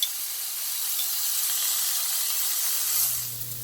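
Steak searing in a preheated cast iron skillet, giving a steady, loud, close hiss of sizzling that holds evenly throughout with no talking.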